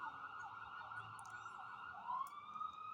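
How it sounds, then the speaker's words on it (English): An emergency vehicle siren wails steadily in the distance, faint and continuous, its pitch rising near the end against low outdoor background noise. "Sirens going."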